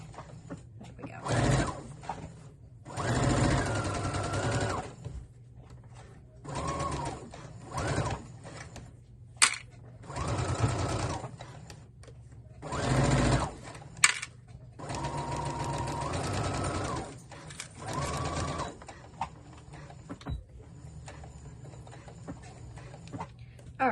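An embroidery sewing machine stitches out a treat jar koozie design. Close bursts of fast, whirring, mechanical stitching alternate with short quiet pauses.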